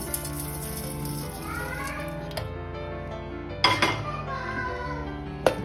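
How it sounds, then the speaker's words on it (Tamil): Close clattering and scraping as cooked baby food is tipped from a pan into a mixer jar, with a couple of sharper clinks against a low background hum. "இதை நம்ம வந்து ஒரு மிக்ஸி கப்பில் வந்து அப்படியே கொட்டிக்கலாம்."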